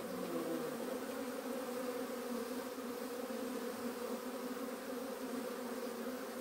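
Dense, continuous buzzing of an Apis honeybee swarm, a steady close hum that holds at one level throughout with no voices.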